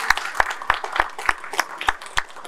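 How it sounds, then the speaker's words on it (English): A small audience claps at an awards event honoring a credit union president, with sparse, distinct hand claps falling in an uneven rhythm close by. "Give him a round of applause, please."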